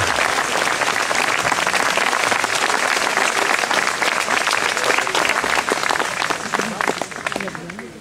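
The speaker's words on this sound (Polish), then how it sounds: "Proszę o brawa." Dense, sustained applause from a concert audience at an outdoor waterside show, loud and continuous for the full stretch before thinning slightly at the end.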